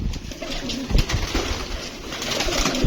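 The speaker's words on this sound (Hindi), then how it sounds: "आज आपको बाहर के कबूतर भी दिखाऊंगा मैं" Pigeons coo steadily and close by in a breeder's loft, a continuous soft throaty burbling with a few louder swells and no talk.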